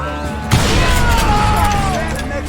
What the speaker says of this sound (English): Sounds like Gary hired a whole regiment of hired guns.